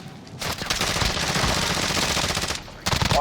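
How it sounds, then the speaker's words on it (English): Rapid automatic rifle fire from an M4 in Call of Duty Warzone, a continuous burst lasting a couple of seconds with a short pause before further shots, loud and close with no talk. "Getting shot from the right again."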